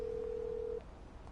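A phone in a video game rings out while calling the mechanic, a single steady electronic tone held for most of a second before cutting off, leaving quiet background hum.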